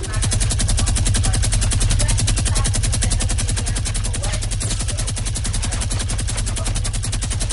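Rapid, evenly spaced automatic gunfire in a shooter video game, a loud continuous burst of close shots lasting several seconds without pause.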